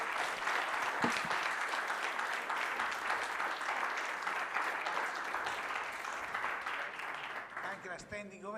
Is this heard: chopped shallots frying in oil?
no